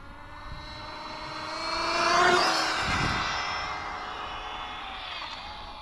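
A car with its throttle pushed hard on a top speed run gives a high, whining motor note that climbs to a loud peak, then fades and holds steady at a distance.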